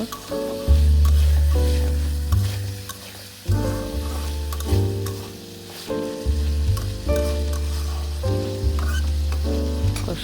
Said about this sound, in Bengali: ভালোভাবে আলুগুলো কষানো হচ্ছে